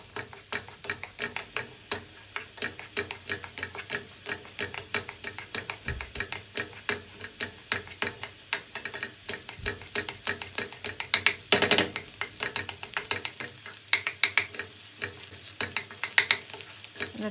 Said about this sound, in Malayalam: എന്നിട്ട് അത് സ്ക്രാമ്പിൾ ചെയ്തെടുക്കുക.